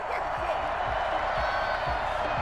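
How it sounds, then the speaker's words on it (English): Stadium crowd in the Madden 21 football video game reacting with a broad, sustained murmuring roar at a distance, fairly quiet with a few soft low thumps underneath. "Well, the crowd doesn't like that."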